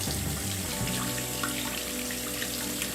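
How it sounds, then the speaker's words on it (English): Water streams from a tap over a person's hands, a steady splashing trickle at moderate level with no talking. "I like the way water feels when it just flows through the cracks of my digits"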